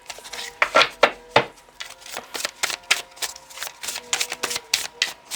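Tarot cards shuffled by hand, giving a close run of sharp riffling snaps and soft slaps in an uneven rhythm, some bursts louder than others, with no talking.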